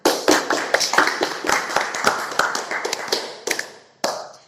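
A small group claps at a podcast opening, with sharp, uneven hand claps rattling close by for about four seconds and thinning out at the end.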